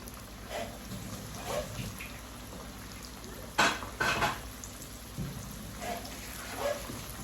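Dough dropped straight into hot oil gives a low, steady sizzle like fine rain, with a few louder clinks and bursts of bubbling around the middle.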